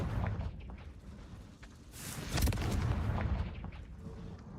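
Explosive fire curse blasts in Hogwarts Legacy on PS5, a sharp booming burst midway over a dull rumbling background with scattered smaller pops.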